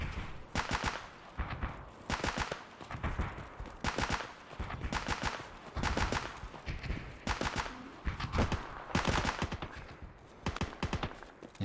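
A bot in a video game firing a machine gun in repeated short bursts, each a rapid cluster of shots separated by brief pauses, steady and fairly loud over the whole stretch without speech.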